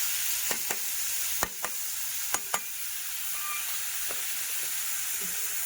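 Chana dal, green chilli, garlic and peanuts fry in oil with a continuous bright sizzle, punctuated by a handful of sharp spoon taps and scrapes against the pan, close and clear with no talk.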